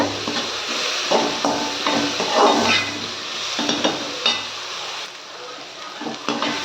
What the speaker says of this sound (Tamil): மீல் மேக்கை சேர்த்து நல்லா வந்து இந்த ஆனியன் தக்காளி கூட வந்து நல்லா கலந்துக்கணுங்க